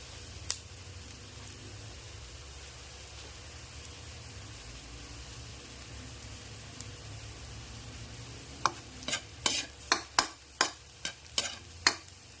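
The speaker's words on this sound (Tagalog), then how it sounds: "pag nagigisa. Ituin pa natin ng konti. Dapat mag-brown yung sibuyas natin." Onions and garlic sauté in a pan for misua, giving a faint, steady sizzle, then a spatula scrapes and clacks against the pan in a quick burst of sharp stirring knocks near the end.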